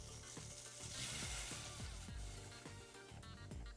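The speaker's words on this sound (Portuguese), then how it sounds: "Aí nesse fundinho da panela nós vamos colocar a água." Water is poured into a hot pan holding the browned fond left from cooking shrimp and sets off a steady, faint sizzle with light crackling throughout.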